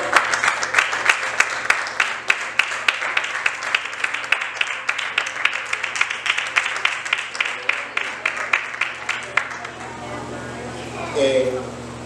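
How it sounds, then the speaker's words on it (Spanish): Steady applause from a church congregation fills most of the clip, dense clapping that stops abruptly near the end, leaving a faint voice. "Denle un aplauso."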